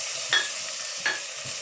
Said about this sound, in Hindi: अब ये हम इसमें ये टमाटर डाल रहे हैं सारे।